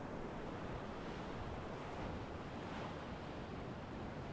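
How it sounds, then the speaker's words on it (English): Whitewater of a rapid on the Illinois River, heard from a rowing boat as a dense, steady roaring wash of churning water that fills the whole clip without a break. "York Creek Rapid is so awesome at pretty much every level."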